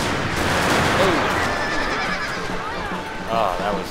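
Cavalry horses whinny during a Shogun 2 video game battle, two short neighs rising over a dense, steady wash of battlefield noise with scattered gunfire, while someone talks throughout.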